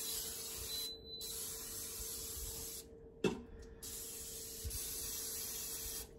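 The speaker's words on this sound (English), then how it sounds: "I'm gonna spray some cooking spray in here." Cooking spray from a store-bought can sprayed into an Instant Pot on saute, heard as a short hiss over a steady background hum, with a faint clack.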